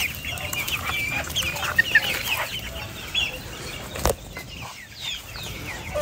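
Serama chickens cluck softly nearby, short scattered clucks and clicks over a quiet farmyard background, with no talking.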